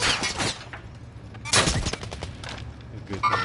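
Gunfire in a PS4 shooter game, sharp bursts of shots close by, one strong volley in the middle and scattered shots around it, with a voice talking faintly underneath.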